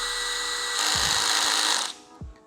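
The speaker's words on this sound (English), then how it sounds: "That clicking sound is the drill telling you like, hey, nothing else we could do." A cordless drill whirs at high speed for about a second while turning jointer helical head blades, then cuts off, followed by a couple of low knocks and the clutch clicking at its torque limit.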